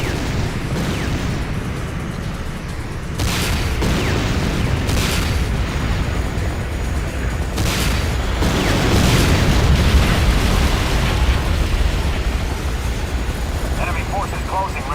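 Airstrike explosions pound the battlefield in Command & Conquer: Renegade, several heavy booms arriving in waves over roughly fifteen seconds amid continuous loud rumble, with a voice speaking over the blasts.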